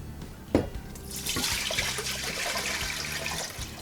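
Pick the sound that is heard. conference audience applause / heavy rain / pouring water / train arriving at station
pouring water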